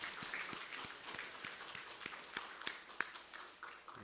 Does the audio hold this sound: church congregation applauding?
yes